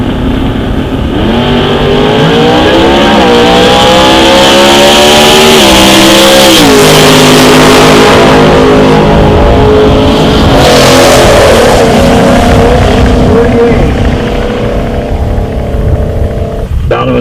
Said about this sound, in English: Left lane is Chris Roscoe out of Winnebago, Illinois, and that's 85 Camaro